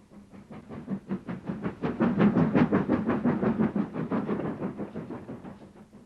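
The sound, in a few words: trains passing on the Bluebell Railway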